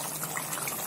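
Yogurt for chicken korma pours into a pan in a brief, soft, wet gush, heard close up and on its own.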